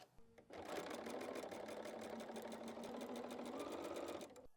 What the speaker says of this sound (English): And let's go sew that.